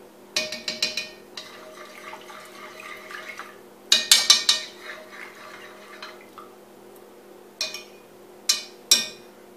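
Oxtail stew in a pot being stirred after tomato paste goes in, with bursts of scraping and clinking of a utensil against the pot coming in clusters over a low steady simmer.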